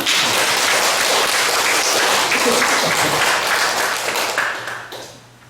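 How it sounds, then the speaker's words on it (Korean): A church congregation applauds with dense, loud, sustained clapping that stays steady and then tapers off toward the end. "박수 한번 쳐주세요."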